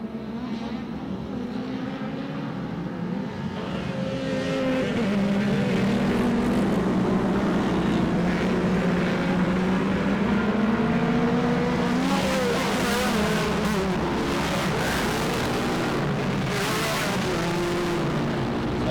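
Production 1000cc UTVs racing off-road in a Lucas Oil regional race, several engines droning and revving loudly together as the pack accelerates, under a race announcer's commentary.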